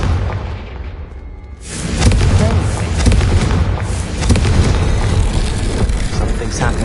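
A Confringo blasting-spell explosion in a Harry Potter video game: a loud, dense boom that swells after a short build and holds as a sustained rumbling roar of debris and noise, with no clear speech over it.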